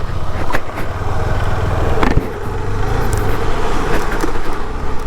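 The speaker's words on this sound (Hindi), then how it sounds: "अभी मैं KTM चलाऊँगा और स्वामी चलाएगा सुजुकी" Motorcycles on a road, a KTM Adventure 250 and a Suzuki V-Strom SX 250, give a steady engine drone with passing wind and road rumble and a few sharper knocks, loud and close throughout.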